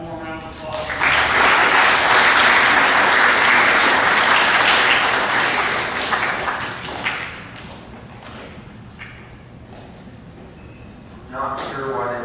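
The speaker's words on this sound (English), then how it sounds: "give these guys one more round of applause" Loud crowd applause at a middle school awards assembly swells for several seconds, then fades to scattered claps, with a voice speaking over the tail end.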